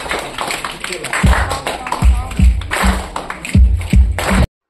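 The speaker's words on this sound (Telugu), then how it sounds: "ఒకసారి స్టాండింగ్ ఓవేషన్ లో ప్లీజ్ అందరూ కూడా స్టాండింగ్ ఓవేషన్ లో క్లాప్స్ ఎవ్రీబడీ" An audience rises for a standing ovation at an event, clapping in a dense, continuous patter with heavy thuds and taps, and voices mingled throughout.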